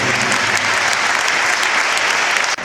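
An audience claps steadily in dense, continuous applause for a team member of the CEP Lorient staff, loud and close, with no voices above it.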